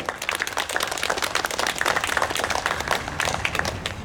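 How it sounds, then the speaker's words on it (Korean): Applause from the congregation at a church prayer meeting, a dense, steady wash of many hands clapping continuously at a close, full level for the whole stretch with no voices standing out. "하나님께 영광의 박수 올려드립시다."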